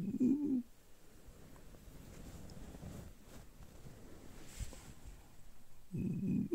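A person mimics a pigeon's coo in two short low bursts, one at the start and one at the end, with a quiet gap of faint room noise between.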